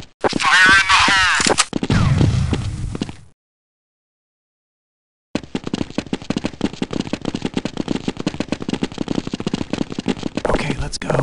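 Counter-Strike Condition Zero combat: a shouted voice and a loud grenade burst, then a pause of silence before rapid, sustained bursts of gunfire crackle on and on.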